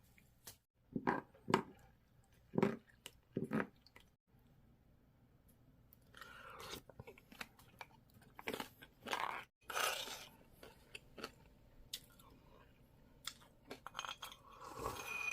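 Someone eats rice soaked in barley tea from a bowl, with close, irregular spoon clinks and scrapes, soft slurping and chewing, and quiet pauses between.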